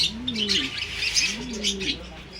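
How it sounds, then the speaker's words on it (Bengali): Pigeons at a bird market coo in soft, repeated throaty rolls, close and clear, with light chirping from other birds in the background. "এগুলো হচ্ছে পায়রা"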